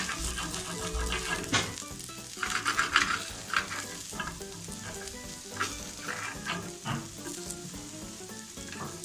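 An activated charcoal dosa fries on a hot pan, a dense continuous sizzle and crackle with occasional scrapes and clinks of a utensil, close and fairly loud with no talking.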